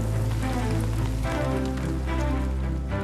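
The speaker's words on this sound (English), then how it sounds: "Rain, the source of Earth's fresh water and essential to life." Rain falls in a steady, dense, even patter that stays constant throughout with no voices, over a low background rumble.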